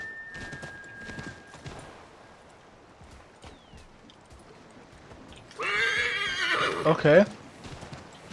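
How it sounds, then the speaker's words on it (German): Horse neighing and hooves clip-clopping in Assassin's Creed III, with soft hoof steps throughout, then a loud, close whinny near the end, with someone talking briefly. "es wird sich bestimmt keiner hier beschweren, dass wir hier mal ein Pferd ausleihen"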